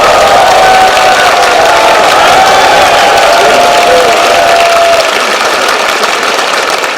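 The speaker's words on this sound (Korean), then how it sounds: "박수 한번 주십시오." Crowd at a political reform rally applauding and cheering loudly in a dense, continuous wash of clapping and voices that eases slightly toward the end.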